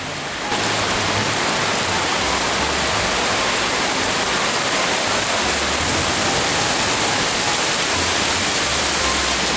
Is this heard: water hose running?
yes